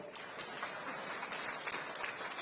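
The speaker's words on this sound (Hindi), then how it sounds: "भाई ताली तो बजाओ।" Applause from an audience at a Delhi traders' gathering addressed by a municipal official, a steady dense patter of many hands clapping throughout, fairly faint and distant, with no voices on top.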